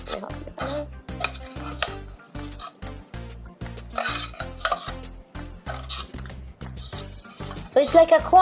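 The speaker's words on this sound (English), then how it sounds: "So you stir the cheese in?" Cheese being stirred into a corn casserole in a home kitchen, heard as a steady rhythm of scraping spoon strokes against the dish, close and clear, with people talking over it.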